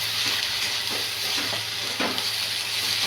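Methi bhaji with peanut powder, turmeric and salt is stirred in a hot pan, a steady close sizzle with soft scraping strokes of the spoon breaking through at intervals.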